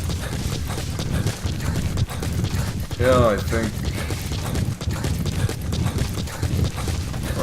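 Horse hooves clip-clop steadily in the video game Metal Gear Solid V: The Phantom Pain, set in Afghanistan. The rhythm runs under near-constant talk and other game sounds and is moderately loud.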